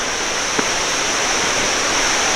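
Running water pours down a waterfall in Luang Prabang, a steady, loud broadband rush filling the whole stretch with no voices.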